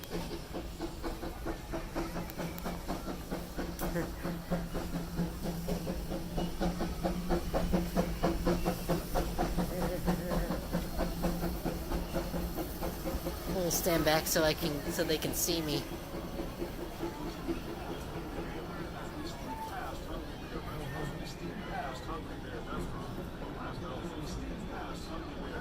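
A steam train at Disneyland chuffs along in a steady rhythm with constant hissing, while someone talks briefly over the noise.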